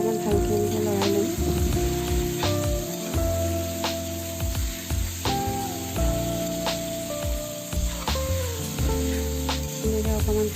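Dahi chicken frying in a pan and stirred: a constant hissing sizzle with occasional sharp scraping knocks, over a steady tonal background.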